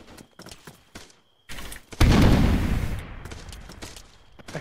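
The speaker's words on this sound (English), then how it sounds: "Farrow, Bromanoff and myself are currently pinned down by an MMG somewhere out to our west." A medium machine gun fires in a military shooter game: a few scattered sharp cracks, then a loud, close burst of fire that rolls off into a decaying rumble.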